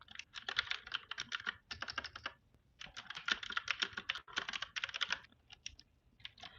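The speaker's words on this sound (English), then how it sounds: "I'm gonna use my loud keyboard." Rapid clattering keystrokes on a loud computer keyboard, typed in quick bursts with short pauses between, close and alone with no talking.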